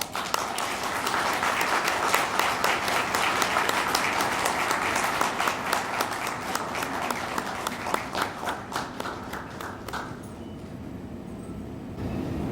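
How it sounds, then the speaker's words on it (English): Sustained applause from a graduation convocation audience honoring the standing graduates, dense and steady for about ten seconds, then thinning out and fading. "A big applause for them"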